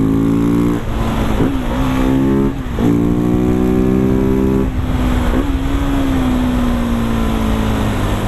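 A Husqvarna 701 supermoto single-cylinder motorcycle revs loud and close while ridden, its engine note climbing, dropping briefly at each gear change, then pulling steadily again with no talk over it.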